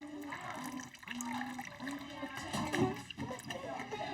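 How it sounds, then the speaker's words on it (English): Water trickles and flows steadily through a small classroom model river with a lake source, a faint continuous burble beneath children's and adults' voices talking nearby. "Watch how the water flows."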